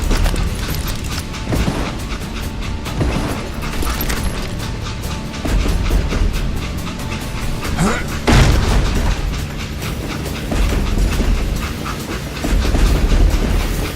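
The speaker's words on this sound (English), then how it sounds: "It was then that Jesse detached the express car from the rest of the damn train." A moving train in the Western video game Call of Juarez rumbles and clatters continuously with mechanical clanks and a heavy boom around the middle, loud and dense throughout, with no speech over it.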